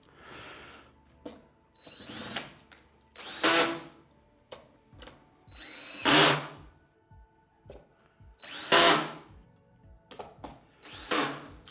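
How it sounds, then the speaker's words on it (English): A drill fitted with a posi bit drives system screws into a Blum Revego pocket door rail, giving several short, close whirring bursts separated by brief pauses, with no talking. "drill with a posi bit because the system screws that we use from our systems are all with a posi screw."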